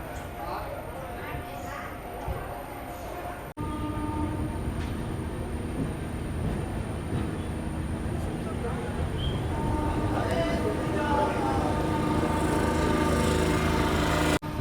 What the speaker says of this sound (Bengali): আর আমাদের ট্রেন ছেড়ে দিল সাঁতরাগাছি স্টেশন থেকে